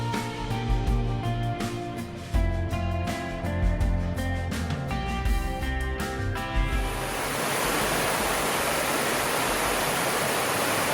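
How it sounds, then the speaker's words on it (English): A small cascade waterfall about six feet high in Big South Fork, where tonal sounds give way after several seconds to a steady, full rush of falling water, close and continuous with no voices. "Nice little cascade."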